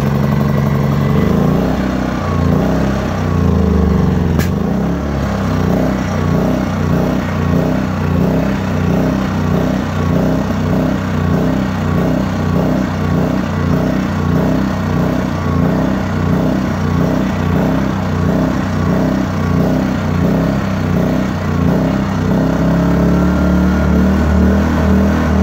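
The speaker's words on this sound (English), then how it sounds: "my other generator is doing. It's running pretty rich. I still got it on choke." Generator engine running rich on choke, a loud, steady, slightly uneven throbbing drone that holds for the whole stretch with no talking.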